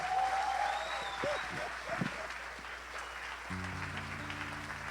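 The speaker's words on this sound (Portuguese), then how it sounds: "Então dá um aplauso ao Senhor pela vida dele." A church congregation applauds during a service, a moderate wash of clapping heard from a distance, overlaid with brief voices and, near the end, a sustained musical chord.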